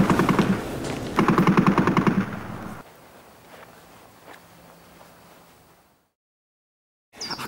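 World War I guns firing in a sound effect: loud rapid bursts of gunfire in two volleys at the start, then scattered fainter distant shots fading into silence before a brief sound returns at the end.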